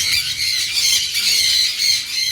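A sun conure parrot squawks at a pet farm during a feeding session, letting out loud, harsh, shrill calls close by that run almost continuously through the whole moment with no talking.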